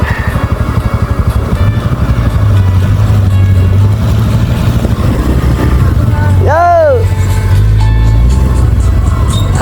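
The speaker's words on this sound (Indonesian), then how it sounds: "Anjay, mobil masuk sini" A car drives slowly along a rough unpaved dirt road, its engine humming and revving steadily nearby while people talk excitedly over it.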